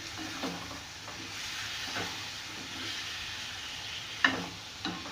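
Chicken stew fries in a pot with a soft, continuous sizzle, broken by a few scraping stirs and occasional clinks of a spoon against the pot, heard quietly and up close.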